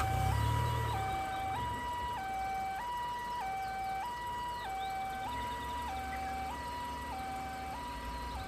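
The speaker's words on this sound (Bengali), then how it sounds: "হাসপাতাল থেকে ডাকা হলো অ্যাম্বুলেন্স।" An ambulance siren wailing in a steady two-tone cycle, repeating about once every second, moderately loud and continuous with a low rumble at the start, no voices.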